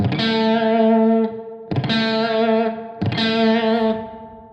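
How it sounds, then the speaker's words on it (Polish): Three strummed guitar chords with a heavy distorted tone, each ringing briefly before the next, a bright sustained note standing out above the damped strings. "tłumimy daną grupę strun, a jeden dźwięk pozostaje niewytłumiony"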